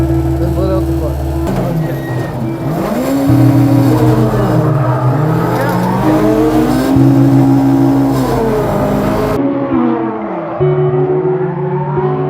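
Gymkhana car engine revving up and down as clutch and throttle are worked, pitch rising and dropping repeatedly, loud and close, with talking over it at times.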